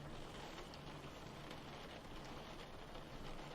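Steady rain falls outside, a dense, even hiss of drops with no break, moderately loud and alone with no voices over it.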